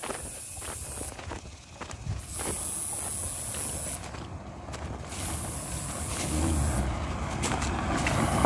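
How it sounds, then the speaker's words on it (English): A car passing on a dusty rural road at night, a broad hissing tire and engine wash that swells steadily louder as it nears, with no talking. "I got a car coming"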